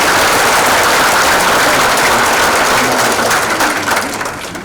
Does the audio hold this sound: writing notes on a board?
no